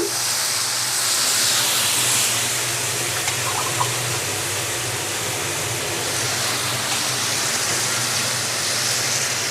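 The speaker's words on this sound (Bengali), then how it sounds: "এখন আমি দিয়ে দেবো পানি" Water poured into a hot pan of Bengali achari curry with shrimp and yardlong beans, producing a loud, continuous broad hiss of steam and bubbling that holds steady throughout, close up and without any voices.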